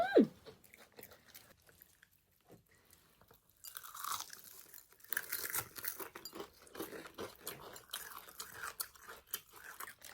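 Crunchy Kwasak King fried chicken is chewed close up. Faint sounds give way to loud, repeated crisp crunching and munching bites that continue steadily, with no voices.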